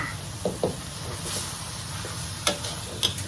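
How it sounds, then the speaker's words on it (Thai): Coconut and cane sugar filling being stirred in a pan over heat: a steady soft sizzle with scattered scraping taps of the utensil against the pan, close and fairly quiet, no voices. "คนผัดให้ทุกอย่างเข้ากันดีเลยค่ะ"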